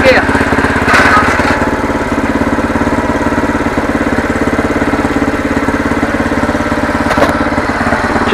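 Engine of an MTD Yardman tiller running loud and steady close by while the tines spin and keep jumping out of gear, a rough rhythmic putter with a brief knock or clunk now and then.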